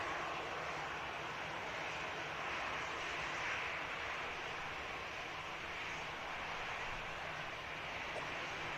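An Aer Lingus UK Airbus A320 heads out on its leg to Dublin, a constant broad jet rumble and hiss sustained evenly at moderate distance throughout, with no one speaking.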